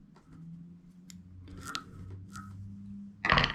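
Small scissors snip a few times while a fly jig is tied with Arctic fox hair, quiet metallic cuts at the bench with a louder rustle at the end.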